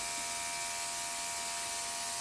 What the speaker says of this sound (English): I'm almost holding the airbrush at an angle and moving the cake board around